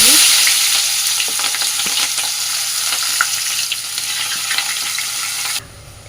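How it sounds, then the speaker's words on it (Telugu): Onions and green chilies fry in a hot pan, a steady loud sizzle with scattered pops and crackles running continuously for about six seconds before cutting off abruptly, with no talking. "ఆనియన్ మిర్చి వేసుకుందాము"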